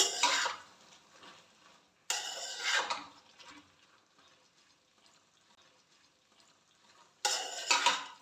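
Eggplant pieces being stirred and mixed in a pan for a sour baingan dish, with three scraping, clattering bursts of utensil against metal separated by quieter moments, close and moderately loud, no talking.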